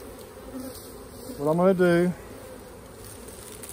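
Honey bees in a hive box hum with a steady close buzz throughout, and someone briefly speaks over it.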